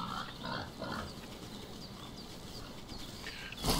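A video game pig grunts and snorts in short bursts, fairly close, over a steady ambient background, ending with a sudden louder noise.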